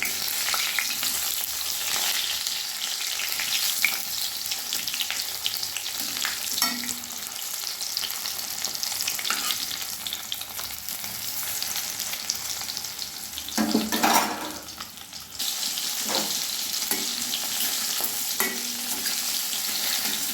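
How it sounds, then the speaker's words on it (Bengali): Katla fish pieces frying in hot mustard oil in a kadai, a loud continuous sizzle with bursts of spattering and a brief utensil scrape midway, no voices. "কড়াই সর্ষের তেল গরম করে নিলাম। এবার তেলটা গরম হয়ে এসছে, মাছগুলো দিয়ে দিলাম।"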